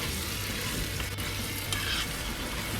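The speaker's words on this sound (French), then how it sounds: "Je remélange. Toujours pour la réduction de la sauce." Chicken curry sauce being stirred in an electric pressure cooker as it reduces, a steady close sizzle and bubbling with scraping spoon movements throughout, no voices.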